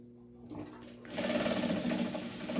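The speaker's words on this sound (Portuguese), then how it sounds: "vou estar fazendo a outra costura aqui" A sewing machine runs steadily, stitching a seam on a delivery bag. The whir starts soft, then rises into a louder continuous mechanical hum that holds to the end.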